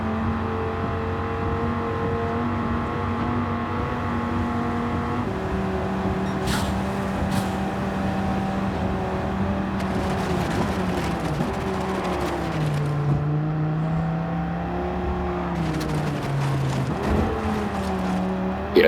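A 2013 Dodge Viper race car engine in Gran Turismo 7, a steady loud droning roar that shifts pitch as the car changes gear and speed, with other cars passing now and then and brief tyre noise.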